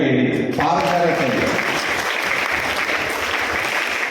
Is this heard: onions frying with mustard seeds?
no